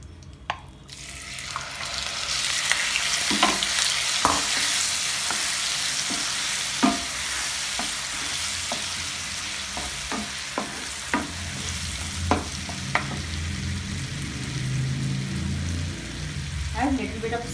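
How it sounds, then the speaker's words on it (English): Onion paste and whole spices such as cloves frying in oil in a pan for paneer butter masala: a continuous close sizzle broken by repeated sharp spatula taps and scrapes. "When it sputters, add onion paste"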